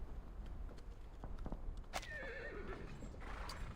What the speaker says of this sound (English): The sound of dozens of horses neighing at once echoes from somewhere far away.